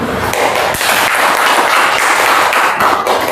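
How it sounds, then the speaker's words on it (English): A class claps hands together on cue, dense steady clapping from many people in a room, loud and continuous for about three seconds with no talking. "Let's clap our hands."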